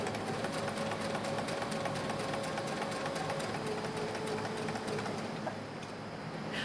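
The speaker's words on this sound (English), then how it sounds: "I'm going to straight stitch at 5/8 inch right along here" A domestic sewing machine runs a straight stitch through dress fabric at a 5/8 inch seam, a steady, fairly slow continuous whir with a fine rapid needle rhythm, close and alone.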